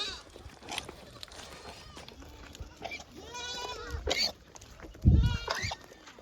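Goats from a loose, straying herd bleat several times, close by, in wavering calls with short gaps, the loudest near the end, over faint background voices.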